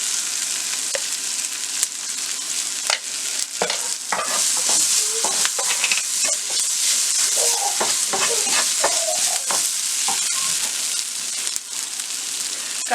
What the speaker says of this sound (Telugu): ఆనియన్స్ ఇలా ఫ్రై అయిన తర్వాత ఒక స్పూన్ కారం వేసుకొని కలుపుకోవాలి.